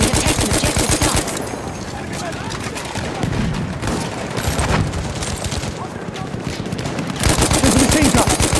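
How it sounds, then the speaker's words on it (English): Machine guns blaze during a Battlefield 1 Conquest battle at Achi Baba: loud, dense automatic fire that runs on and off across the scene over a busy backdrop of battlefield noise. "There's a machine gun!"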